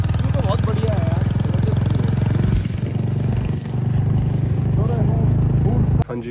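Heavy motorcycle ridden along a forest road near Rishikesh, its engine a steady loud drone throughout with a brief dip midway and a sharp knock near the end, someone talking over it.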